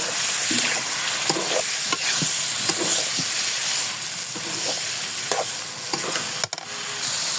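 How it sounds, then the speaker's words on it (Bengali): Beef and potatoes frying in a spice paste in a Bangladeshi home kitchen, loud continuous sizzle and hiss with repeated scrapes of a spoon stirring the pot. "মশলাটা কষানো হয়ে গেছে, এখন আমি গোশটা দিয়ে দেবো। ভালোভাবে কষিয়ে দেবো।"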